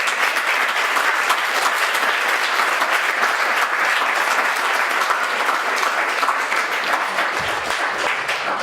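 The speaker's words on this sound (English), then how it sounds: "So give her a round of applause." A crowd at a community town hall meeting bursts into sustained, loud applause for a guest, continuous dense clapping that holds steady and only begins to thin at the very end.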